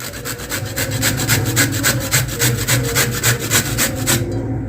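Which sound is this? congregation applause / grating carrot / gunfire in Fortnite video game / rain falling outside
grating carrot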